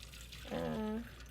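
Mexican coffee is ladled into a container, a short, quiet liquid pour with a brief gurgling, tonal splash lasting about half a second over faint background hum.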